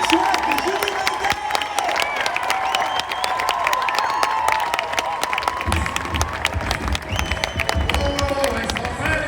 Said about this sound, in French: Une bonne ligne d'applaudissements pour nos deux animatrices de la soirée, Émilie Chouette et Julie Linguet.